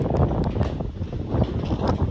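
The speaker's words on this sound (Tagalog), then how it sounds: "Malakas ang hangin, no?" Strong wind with rain buffets the microphone in a steady, dense roar with gusty rustling during a typhoon, loud and close, and no one speaks.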